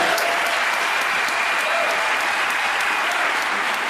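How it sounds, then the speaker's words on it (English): Sustained, dense audience applause fills a town hall meeting of a quiet-skies voters' league, steady and loud throughout with many hands clapping at once. "I don't think we've had a full opportunity to give a round of applause to Steve Edmonston."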